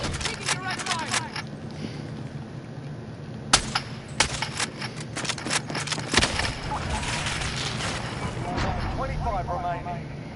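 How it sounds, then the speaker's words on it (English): Bursts of gunfire from a Warzone battle royale match, sharp cracks clustered between three and six seconds over constant battlefield noise, with a player talking throughout. "Taking direct fire."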